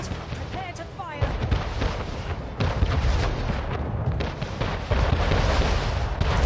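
Naval fleet cannon fire in the video game Anno 1800: heavy booming volleys roll out in overlapping bursts, loud and sustained, with a voice briefly heard near the start.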